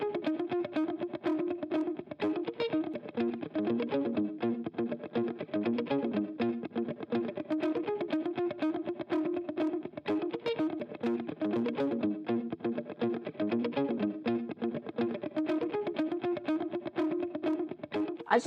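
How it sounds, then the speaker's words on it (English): Overdriven guitar played through a DiGiCo Quantum console with its Mustard tube preamp adding a little drive, heard as a steady, dense, continuous strummed passage at moderate level with no talking. "I'm going to use the tubes to add a little bit of overdrive"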